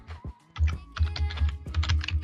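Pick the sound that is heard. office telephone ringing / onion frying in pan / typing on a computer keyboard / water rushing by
typing on a computer keyboard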